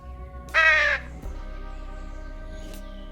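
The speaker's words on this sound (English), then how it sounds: "Can I call the birds again?" A crow caws once loudly in the video game Truberbrook, a harsh close call followed by a steady low ambient hum and a faint tick.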